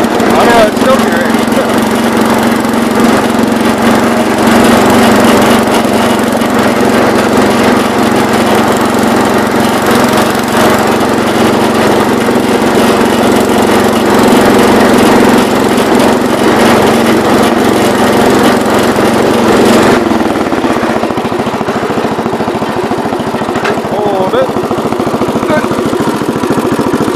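A 1970 garden tractor's small engine idles steadily up close, a constant rumbling drone that shifts slightly in tone near the end as the carburetor mixture is adjusted, and keeps running.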